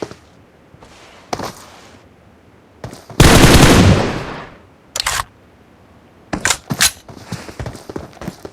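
Gunfire in a shooting video game comes as scattered sharp bursts, one long loud burst in the middle and a few quick shots near the end, with quiet gaps between.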